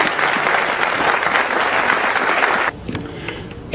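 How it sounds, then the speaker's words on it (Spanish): A crowd at an Alcoholics Anonymous meeting claps loudly and steadily to welcome a speaker, then the applause cuts off abruptly into a quieter room with a few stray claps. "Les pido lo recibamos con un fuerte aplauso."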